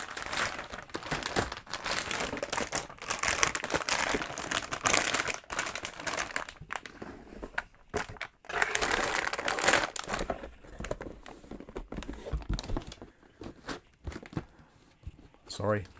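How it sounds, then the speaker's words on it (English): Plastic and cardboard packaging rustles and crinkles in dense bursts while parts for a £700 AM5 gaming PC with a 12GB graphics card are unpacked, the crackling sounding close and loud over a murmur of voice. "Sorry, bit of rustling there."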